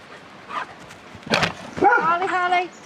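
A dog in a garden gives a few sharp barks, then a whining, yelping cry, close and fairly loud, with short gaps of near quiet between them.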